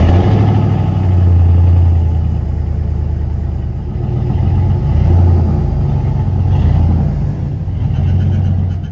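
An old IHC truck engine rumbles steadily at idle after cranking, a loud, continuous low mechanical drone with slight surges and revs throughout.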